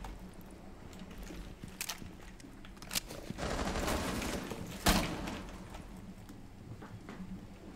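Sharp gunshots crack out at scattered moments in Rainbow Six Siege, with a rattling burst of rapid fire in the middle, set against steady game background noise and no voices.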